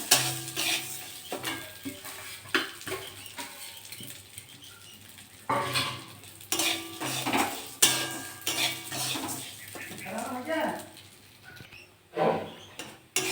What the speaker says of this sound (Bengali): আমরা ডালগুলো দিয়ে ভেজে নেবো